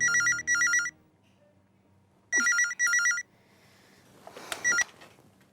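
Telephone ringing on an outgoing call, two electronic trilling rings in pairs of bursts separated by a pause, clear and close, followed by a few faint clicks and taps.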